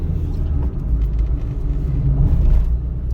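Loud, close engine rumble from a car driving over an uneven surface, a continuous low drone with bumps and rattles throughout.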